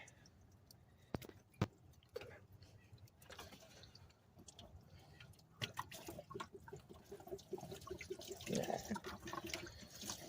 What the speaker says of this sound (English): Yes, there's gonna be some coolant leak.